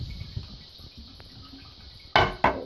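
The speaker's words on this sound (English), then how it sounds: "Alright, flush him down the toilet." Two quick, loud watery whooshes of a toilet flushing Wario away in a video game come close together near the end, after a quiet stretch of faint background sound.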